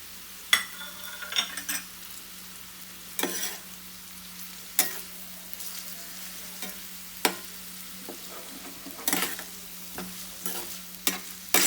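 Thinly chopped onions roast in a pan into birista for egg dum biryani, giving a steady low sizzle broken by repeated sharp scrapes and stirring strokes of a utensil against the pan.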